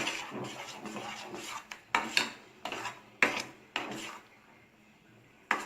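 A spoon scraping and clinking against a metal pan in irregular strokes as a thick sugar-sweetened mixture is stirred, close and fairly quiet.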